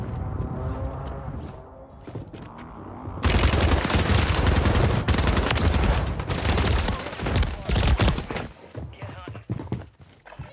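Rapid gunfire erupts in a Call of Duty: MW3 Warzone match, a dense loud volley of shots and bursts that starts abruptly after a few seconds of quieter game sound, then thins out toward the end.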